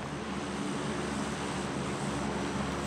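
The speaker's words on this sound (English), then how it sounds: "Where are you going, little airplane?" Airplane flying overhead in the battle royale game PUBG, a steady, fairly quiet engine drone that holds evenly throughout without change.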